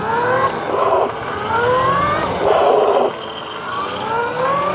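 A HiKNIGHT GTX1 mini electric dirt bike rides past with a loud whining electric motor that rises and falls in pitch several times, its tone dropping as the brakes are applied.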